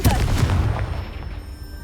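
A Confringo explosion spell bursts in the Hogwarts Legacy video game, a single loud boom that fades over under two seconds.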